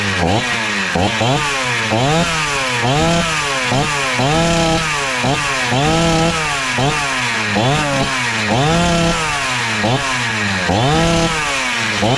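A Husqvarna 266xp chainsaw rebuilt from a junk pile runs loud and close, its engine rising and falling in repeated revving surges with a rough, uneven idle between them.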